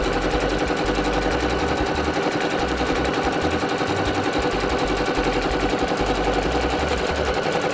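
A sewing machine runs fast and steadily, stitching a drawstring bag at a 2.5 mm stitch length, with a dense, even mechanical chatter that continues close-up for the whole stretch.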